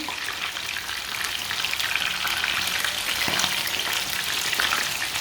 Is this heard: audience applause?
no